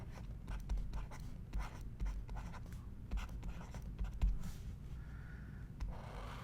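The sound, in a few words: drawing a cis Golgi diagram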